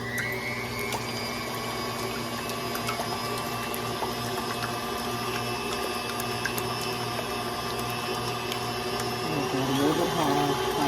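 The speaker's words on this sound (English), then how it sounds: "now we'll go ahead and just whisk it on high" Electric mixer whisking lemon meringue on high speed, sugar and cream of tartar added, giving a constant steady whine and whir that fills the whole stretch without pause.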